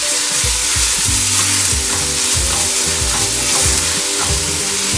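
Ginger garlic paste sizzles loudly in a pan for an egg tawa masala, a steady hiss under rhythmic low scraping as it is stirred and sautéed throughout.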